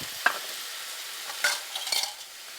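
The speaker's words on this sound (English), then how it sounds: "Stir it for 30 seconds" Ginger and mushrooms stirred in a frying pan: a quiet, constant sizzle with a few close scraping and clinking strokes of a utensil, no voices.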